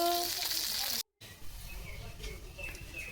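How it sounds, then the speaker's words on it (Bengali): Fish frying in a pan gives a steady hiss and crackle of sizzling oil that fills the whole stretch, broken by a brief silent gap near the middle. "আর এই যে মাছ কিন্তু আমার প্রায় ভাজা হয়ে গেছে"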